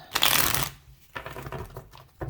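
Tarot cards are shuffled by hand in a crisp, loud riffling burst, then a few softer shuffling and tapping sounds follow, close up with no speech.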